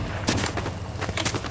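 Fortnite Battle Royale gunfire: a few sharp, loud shots cracking in quick, uneven succession over a dense background of game noise.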